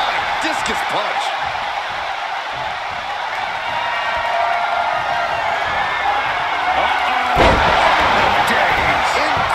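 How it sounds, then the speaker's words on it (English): Raucous crowd in a WWE SummerSlam wrestling arena roars continuously throughout, a dense wash of cheering with a sharper burst near the end, under a commentator's voice. "What a raucous crowd here tonight"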